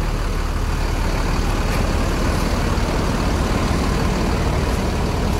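The engine of a new Putra Remaja SR3 Panorama bus with an automatic gearbox runs steadily up close, giving a continuous low, rough rumble with no talk over it.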